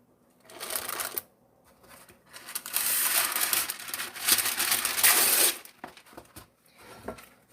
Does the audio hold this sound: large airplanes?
no